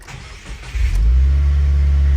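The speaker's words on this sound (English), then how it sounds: "So we're going to start the car." A car engine cranks and catches, a brief starter whir followed by a loud, steady idle rumble close by, with no talk over it.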